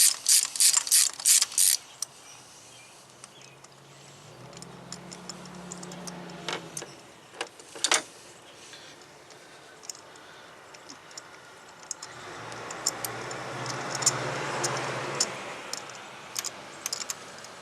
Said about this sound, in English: now removing the spark plugs will be pretty simple. We'll just use a 5/8 spark plug socket and